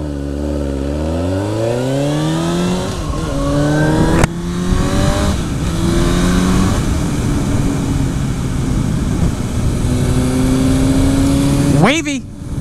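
A motorcycle riding away on an evening street: a loud engine revs upward in repeated rising sweeps, growling through each climb before easing off, then surges once more near the end.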